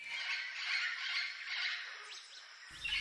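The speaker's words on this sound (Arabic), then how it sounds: "هذه الطيور الملونة ذات التغريد المميز تبني مستعمراتها في أغصان أطول الأشجار" Harsh, squawking oropendola calls ring out continuously at moderate volume, with a few liquid, sliding notes toward the end, in a Central American rainforest.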